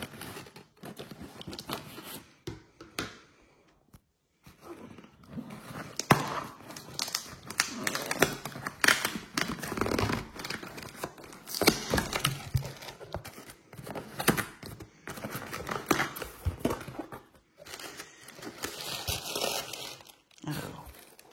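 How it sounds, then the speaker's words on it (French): A delivery parcel holding a Velux App Control is torn and opened by hand, with continuous crinkling, ripping and rustling of cardboard and packing, close up, interspersed with brief quiet pauses and occasional French speech. "On passe au déballage. Alors voilà le colis, on va l'ouvrir."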